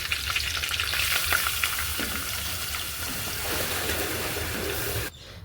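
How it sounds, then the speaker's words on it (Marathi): Spiced buttermilk goes into hot oil in a pot for kadhi, setting off a loud, dense sizzle and bubbling that holds steady, then stops abruptly near the end. "आता मी हळूच त्याच्यामध्ये तिखटवालं ताक सोडणार आहे एकदम"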